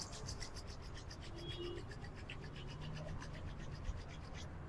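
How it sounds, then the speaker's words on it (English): Palms rubbing together during a yoga cool-down, a steady soft dry friction hiss lasting throughout at low level, with no talking. "Gently rub your palms."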